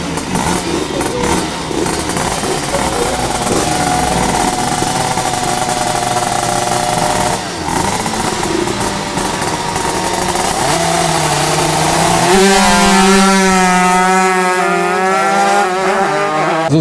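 A tuned Vespa scooter at a racing start, its engine revving loud and continuous as it is played back from a recording, rising to a higher, harsher wail toward the end, with no talk.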